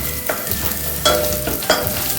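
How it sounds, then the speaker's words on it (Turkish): Tomato paste and garlic sautéing in a pan, a steady close sizzle with three distinct spoon strokes scraping through the mixture, loud with no voices. "Salçalarım, sarımsaklarım güzel bir şekilde kavruldular."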